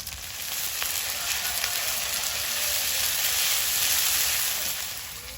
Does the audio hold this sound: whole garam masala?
yes